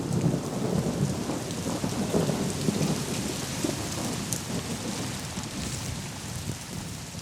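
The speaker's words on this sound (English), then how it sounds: "19 inches of torrential rains falling in 60 hours over 6 Northeast states" Heavy rain pours steadily throughout, with low rumbles of thunder rolling underneath; a dense, continuous storm with no voices.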